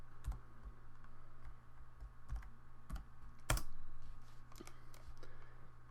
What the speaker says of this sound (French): il me reste simplement à taper au clavier le diamètre du cercle